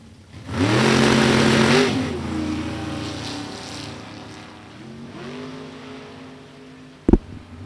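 A 1963 Corvette drag car with a 632 cubic inch engine revs hard and loud, holding a strong harmonic roar, easing off, then climbing again, ending with a sharp burst.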